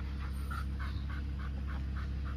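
Pit bull dogs pant in quick, steady breaths close by, with a few faint whimpers over a constant low background rumble.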